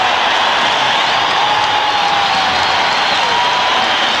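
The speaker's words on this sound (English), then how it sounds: "Listen to the crowd." A loud crowd at a Syracuse men's basketball game roars continuously in the arena, a dense wash of cheering and shouting voices with no single speaker standing out.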